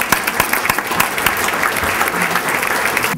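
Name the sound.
audience applause at an awards event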